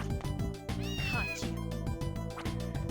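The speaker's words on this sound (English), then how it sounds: "Okay, don't know if that's supposed to be Tom or a different cat." A cat meows in the video game Castlevania: Order of Ecclesia, giving a clear, wavering meow and then a fainter second cry, both layered over rhythmic background game music.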